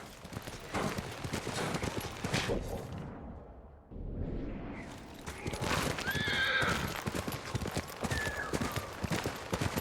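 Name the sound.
horse galloping and neighing in video game Ghost of Tsushima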